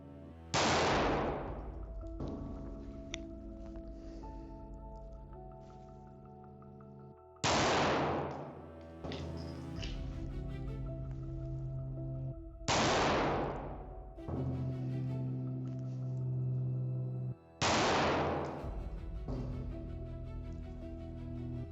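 Four loud, sharp handgun shots fired one-handed in a weak-hand shooting drill at a range, spaced about five seconds apart, each with a ringing echo that decays before the next.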